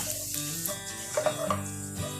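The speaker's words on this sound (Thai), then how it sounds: "แล้วแป้งก็จะผัดให้หอมเลยค่ะ" Chopped garlic and dried bird's-eye chilies stir-fried in oil in a pan for fried rice, a steady close sizzle with light stirring scrapes and no talk.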